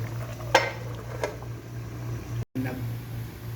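A metal lid set onto a pot of mung bean stew on the stove, a sharp clink followed by a softer clatter, heard against a steady background hum.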